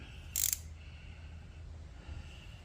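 A Kobalt square-drive socket wrench gives one short, bright ratcheting burst up close during farm tractor maintenance, followed by low background hum and a faint later rattle.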